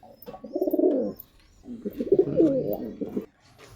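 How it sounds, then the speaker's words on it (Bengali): Quality pet pigeons of the Andhra Fulsi type, kept by a breeder in Serampur, Hooghly, coo close by in two rolling, throaty bursts separated by a short pause, with no talking. "খুব সুন্দর কোয়ালিটির পায়রা আছে"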